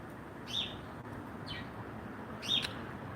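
A small pet bird gives a few brief, high chirps at a moderate distance, three short calls spaced about a second apart over a steady background hiss, with no talking.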